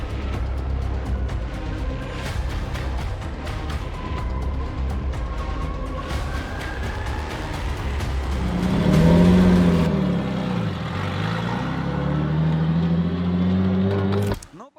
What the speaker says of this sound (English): The two cars accelerate, and Sergei Korneyev is playing it safe with